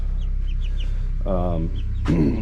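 Young chicks about three weeks old peep and cluck in a dusty shed, a few short calls over a low steady hum, one louder squawk near the end.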